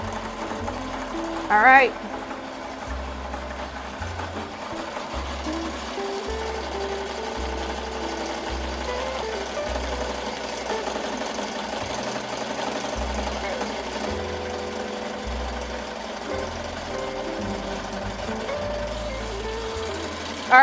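An embroidery machine stitches a brown satin stitch on a sequin hoodie, its needle bar hammering in steady rhythmic bursts with pauses as it moves, loud and close, while a person says a couple of words briefly near the start.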